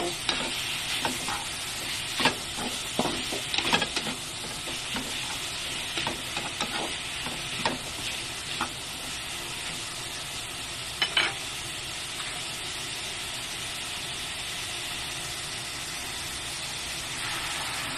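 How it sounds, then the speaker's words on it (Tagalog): Hotdog pieces are stirred in a pan of creamy sopas over a steady loud sizzle. Scraping stir strokes come close together early on, then the frying hiss carries on almost alone. "Ilagay na natin yung ating hotdog. Haluin lang natin, i-mix lang."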